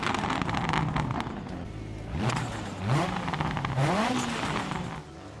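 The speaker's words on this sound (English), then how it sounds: "it introduces a lot more of that popping sound that everyone loves," Rally car in DiRT Rally with a sound mod adding anti-lag, revving hard with rising engine pitch sweeps between gear shifts, close and loud, with crackling pops mixed into the engine note.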